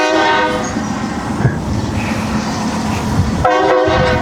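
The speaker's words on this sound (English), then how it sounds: "there goes the train" A train rumbles past close by with a steady roar and a sustained horn blaring over it, the horn cutting out and returning near the end.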